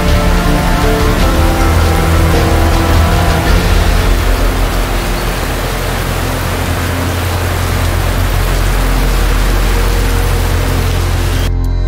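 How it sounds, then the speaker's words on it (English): Heavy pouring rain over an alley of apartments in Colón, Panama, a loud, dense, unbroken roar of downpour that fills the whole stretch with no voices. "It's pouring rain right now."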